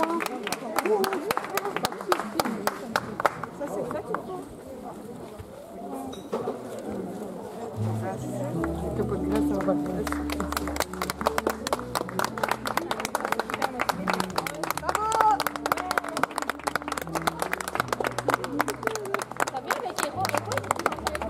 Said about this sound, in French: Et aux applaudissements.